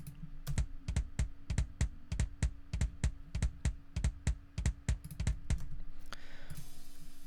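Dark, heavy kick drum from a metal mix, hitting in a steady rapid pattern of about twenty thuds with a tight click, then giving way to a hissy wash at the end.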